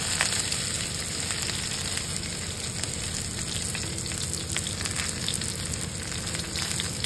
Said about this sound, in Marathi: आणि बारीक गॅसवर परतून घ्यायची मस्त.